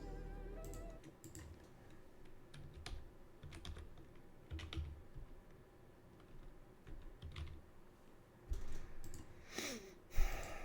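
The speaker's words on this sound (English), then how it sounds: "I'm typing around my mic if it sounds like I'm finger or chicken pecking or whatever it's called, because I am." Fingers peck at a computer keyboard close to the microphone, giving irregular bursts of soft clicks with short pauses between them, and a louder flurry of keystrokes near the end, with no talking.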